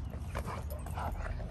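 A dog barks and whimpers in short excited bursts during protection training, close and fairly loud over a brief stretch.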